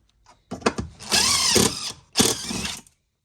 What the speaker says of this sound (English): And so just keep drilling the same thing.